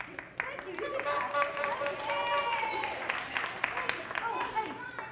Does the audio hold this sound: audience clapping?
yes